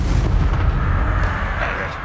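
Confringo fire-blast spell from the Hogwarts Legacy video game, a dense, sustained explosive rumble with crackling bursts, loud and close throughout, slowly tapering near the end.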